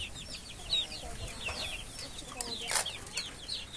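Free-range chickens cluck and chirp repeatedly in short, scattered calls, some near and some farther off, as feed and fine cracked corn are given on a farm; no one speaks.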